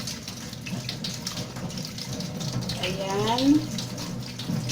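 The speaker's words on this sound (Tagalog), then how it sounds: "First, we will wash our potato." Tap water runs steadily into a sink as potatoes are rinsed for a skillet breakfast of roasted potatoes and egg, a continuous close splashing with a brief voice over it.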